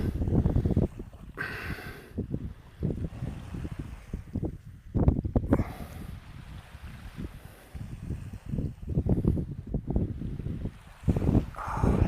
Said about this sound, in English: Water, love the sound.